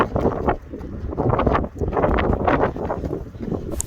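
Loud, gusty wind buffets the microphone in heavy rumbling surges during a 5k run, with brief lulls between strong blasts.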